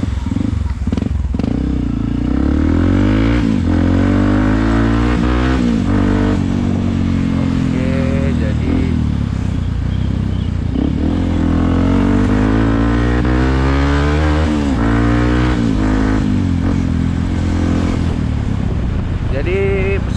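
A Yamaha WR155R supermoto motorcycle engine runs loud and close with repeated revs rising and falling, while a rider talks over it.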